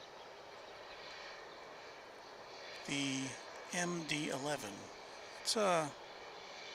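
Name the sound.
McDonnell Douglas MD-11 jet aircraft at DFW Airport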